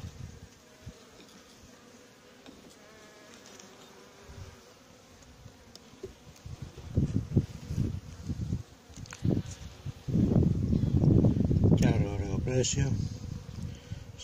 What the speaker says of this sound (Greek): οι μέλισσες πολύ ήρεμες, αν και έχει αέρα